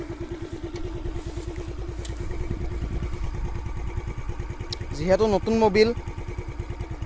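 A motorcycle engine idles steadily just after being started, a close, even low putter running throughout, with a person talking over it near the end.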